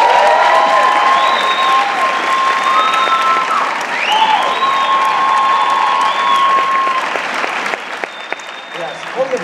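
Loud, sustained applause from a large audience at a Sundance film premiere Q&A fills the room, with bright whoops and cheers riding over the clapping before it tapers off.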